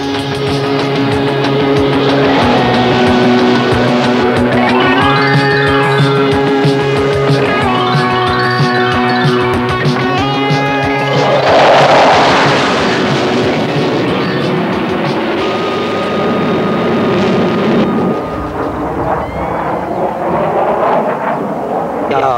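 A Mirage delta-wing fighter jet roars loudly overhead at an air show, a sustained engine rumble with sweeping harmonic tones that rise and fall as it passes, steady throughout.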